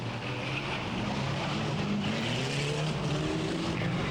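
Race cars at Bovingdon Raceway, a steady loud engine drone with rising and falling pitch as cars pass, continuous and unbroken.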